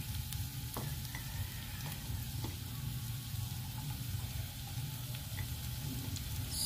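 Garlic sizzles steadily in a hot pan at home, a continuous close frying hiss with a few faint clinks of a utensil and no talking.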